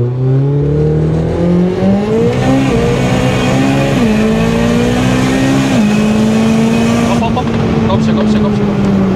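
Car accelerating hard from 50 to 210 km/h, the engine note climbing steeply through several gear changes, loud and close, with brief dips at each shift.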